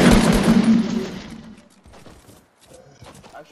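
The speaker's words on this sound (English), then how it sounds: "I then shoot down the launch pad." Gunfire in a Fortnite match, with a loud burst of shots at the start that tapers off, followed by scattered fainter cracks and clicks.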